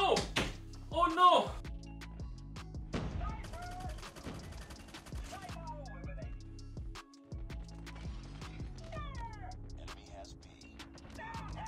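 Bursts of automatic rifle fire from an FR556 in COD Mobile ranked play crack out in quick clusters among game effects, while someone talks over the action.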